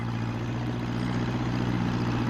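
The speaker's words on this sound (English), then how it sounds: "What with the noise of the tractor, Peter Fogg didn't hear Pat's call." Farm tractor engine running steadily, a low droning hum with a constant pitch, fairly quiet and unchanging throughout, with no voices.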